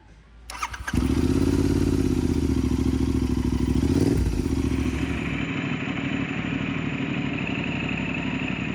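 Cafe racer motorcycle on a troubled ride in Finland, its engine catching and then running at a steady loud drone, briefly revving and then settling to an even idle-like note, with no talking.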